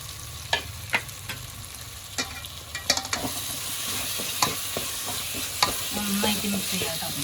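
Ginger, green chilli and garlic paste frying with tomato, stirred in the pan; a soft, fairly faint sizzle with scattered sharp scrapes and taps of the spoon.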